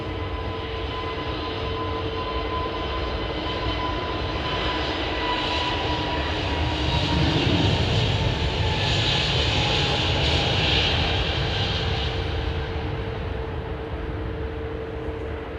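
An Airbus A320neo jet airliner roaring down a wet runway on takeoff, a loud sustained engine rumble with hissing spray that swells in the middle and holds steady throughout.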